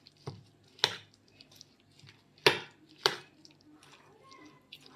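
Moong dal batter is mixed with chopped onion and coriander in a bowl, giving a few sharp clinks and wet scrapes at irregular intervals, close by, with no talking.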